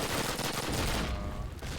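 A PPSh submachine gun rattles in Call of Duty on the Tigertown map, a dense, continuous burst of rapid automatic fire that stays loud for the whole short moment.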